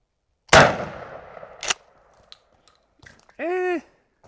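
Two loud, close shotgun blasts about a second apart from a Beretta shotgun firing S&B shells, each with a ringing decay, followed by faint clicks and a brief tonal beep.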